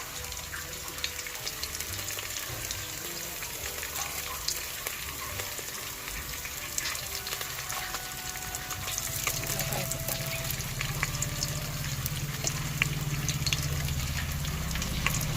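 Curry leaves, mustard seeds, fenugreek, cumin, shallots and chillies tempering in hot oil for dal sambar, a fairly faint, steady sizzle with scattered crackles and a low background hum that thickens toward the end.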